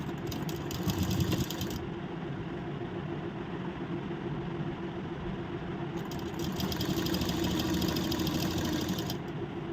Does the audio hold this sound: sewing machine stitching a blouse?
yes